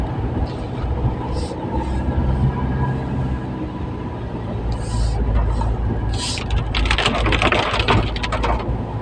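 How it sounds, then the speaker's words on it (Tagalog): Heavy typhoon rain falling in Baguio, a loud, steady, dense downpour that hisses evenly throughout with bursts of heavier spatter near the end. "Lakas ang ulan."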